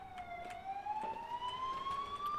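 A faint emergency vehicle siren passes outside a house, one slowly rising wail heard through walls, with tapping and clicks nearby.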